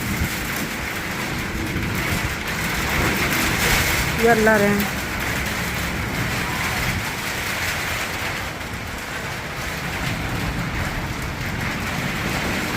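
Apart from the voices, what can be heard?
rain with wind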